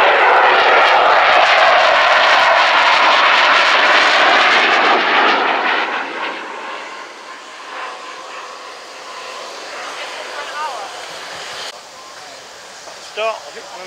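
Jet aircraft engines roar loudly at an airshow at RAF Fairford, a broad sustained rumble that fades as the aircraft moves away, leaving a distant whine and open-air background.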